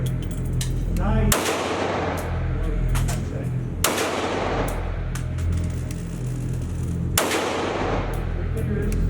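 Three loud, sharp shots from a Ruger 5.7 pistol crack out a few seconds apart at an outdoor range, each followed by a short ringing decay over steady background noise.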